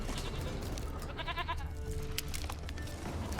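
A goat bleats in the video game The Witcher 3: Wild Hunt, with a short wavering bleat in the middle of a soft, steady ambient backdrop.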